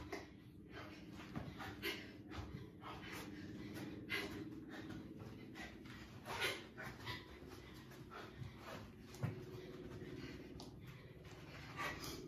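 A puppy pants quickly and rhythmically after being chased, close up and fairly quiet, with occasional snorts and breathy gasps.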